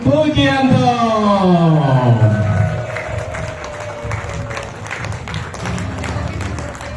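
Audience applause welcoming a speaker at an indoor seminar event, a sustained wash of clapping from a crowd under loud music with a descending sweep at the start.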